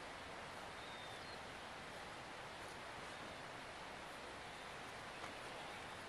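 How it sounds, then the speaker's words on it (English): Heavy rain falling on a camping tent, a constant even wash of dense pattering noise, fairly faint and unbroken throughout. "Very consistent rain."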